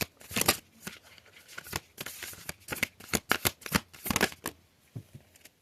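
Tarot cards are shuffled close up in a quiet room, with repeated crisp riffling bursts and soft slaps in an irregular rhythm.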